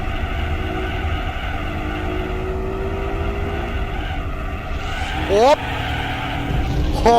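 Gran Turismo 4 car sliding sideways onto dirt while racing downhill, a steady engine drone with a rising tire squeal sweeping up near the end, a voice talking over the game sound.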